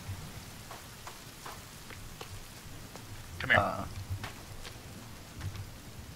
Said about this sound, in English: Oh, great, it's raining.